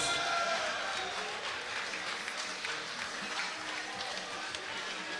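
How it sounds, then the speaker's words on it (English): Crowd applause at a Cagezilla MMA event greets the new 155-pound champion after a fight, a steady wash of clapping and cheering heard from a distance at moderate level for several seconds. "Give him a big round of applause."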